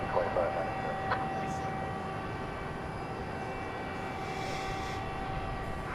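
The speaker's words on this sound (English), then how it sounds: "Moving into view there is a 737-800 American Airlines 2267" American Airlines Boeing 737-800 jet on the runway at night, a steady distant roar of engines with a faint tonal whine, under intermittent talk.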